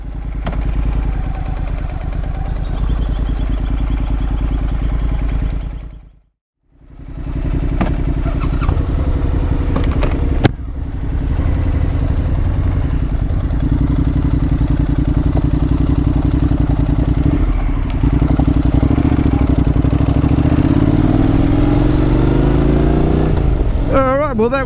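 A Honda NC750X motorcycle engine runs steadily at low revs while being parked, a loud close drone with a brief cut near the start, a clunk partway through and a rising whine at the end, with talk over it.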